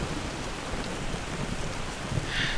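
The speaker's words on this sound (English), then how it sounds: "the next little bit is just gonna be more of the wonderful rain" Steady rain falls in the survival video game Soulmask, a dense, even hiss of drops on surfaces filling the whole stretch with no voices, with a slightly brighter patter near the end.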